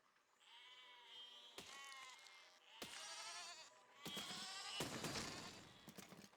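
Sheep bleating in the physics game Besiege, several wavering bleats, some overlapping, fairly near but quiet, with brief sharp clatters and noisy bursts between them.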